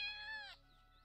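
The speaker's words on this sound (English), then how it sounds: "this cat." House cat in the farming game Professional Farmer: Cattle & Crops, giving a single loud, drawn-out meow that ends abruptly, followed by quiet.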